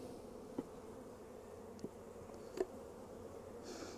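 Honeybees hum at an open brood frame during a sugar-shake check for external parasites, a faint steady insect drone with a few brief soft knocks and no voices.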